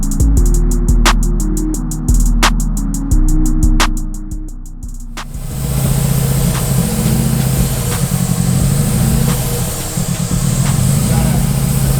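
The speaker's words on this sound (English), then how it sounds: "Day 7, the car starts." A 2009 Subaru WRX time attack build cranks over in several short rhythmic bursts, then catches and settles into a loud, steady idle, with people talking over the engine.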